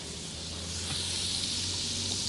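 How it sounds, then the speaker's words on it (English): Hot oil sizzling steadily in a camp oven ahead of braised steak and onions, a constant close hiss that swells slightly louder partway through, with no talking. "Oh, it's sizzling."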